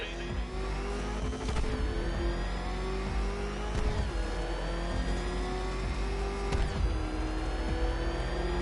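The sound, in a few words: Batmobile engine revving in a video game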